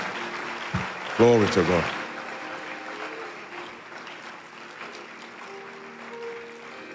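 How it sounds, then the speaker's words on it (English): A church congregation applauds during a worship service, with steady clapping running throughout and a voice speaking briefly over it near the start. "Don't stop clapping."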